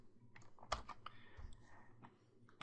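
Quiet typing on a computer keyboard while entering an SQL query: a short burst of light, close key clicks in an uneven rhythm, with a few louder taps mixed in and a faint background hum.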